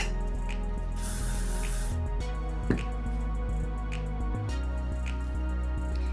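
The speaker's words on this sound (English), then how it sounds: "I'm just spraying it to give it some texture, a little bit of grip." Hair texture spray hisses in short aerosol bursts as it is applied to hair, close and fairly loud, with a longer burst near the start and quieter spritzes and handling noises after.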